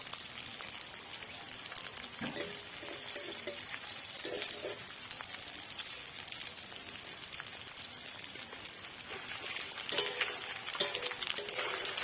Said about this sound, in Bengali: আমি উল্টে পাল্টে ফুলকপিগুলোকে একটু লাল লাল করে ভাজবো।